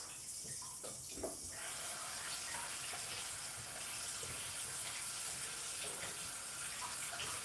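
Soaked dried fish being washed under a running tap, a steady broadband rush of water with faint clatter near the start and no voices.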